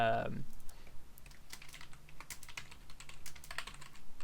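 Code being typed on a computer keyboard, a quick irregular patter of close key clicks running for about four seconds after a short spoken word at the start.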